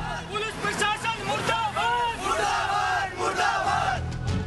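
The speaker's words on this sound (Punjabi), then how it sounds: "ਸੜਕਾਂ ਤੇ ਹੁੜਦੰਗ ਮਚਾਉਂਦੀ ਭੀੜ" A crowd of protesters shouts and chants on a road in Patiala, with loud overlapping voices rising and falling in waves, close to the listener and dense throughout.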